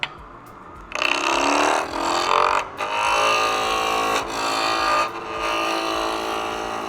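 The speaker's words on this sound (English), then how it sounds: "You use a spindle roughing gouge to rough it down." A spindle roughing gouge cuts a spinning wood blank on a lathe at a woodturning demonstration, a harsh sustained ripping hiss in several long passes, each broken by short gaps as the tool lifts and re-engages.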